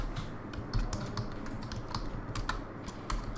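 Fingers type on a computer keyboard in quick, irregular bursts of close, crisp key clicks over a quiet background, with no speech.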